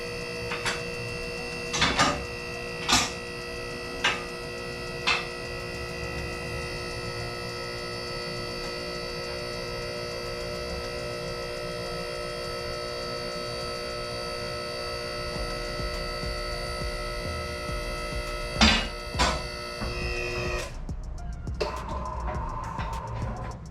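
A QuickJack portable car lift raises a turbo Honda Civic in a home garage, giving a steady electric pump hum with a few sharp clanks of the lift locking, ending with a brief change in tone.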